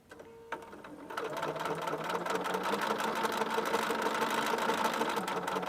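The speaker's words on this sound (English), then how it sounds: "I'm using my trusty stiletto to just coax those seam allowances under the presser foot, and I go slow enough that I have time to make those adjustments" A sewing machine stitches the seams of a scrappy strippy chevron quilt, starting with a soft click and then running at a steady, rapid close hum for several seconds.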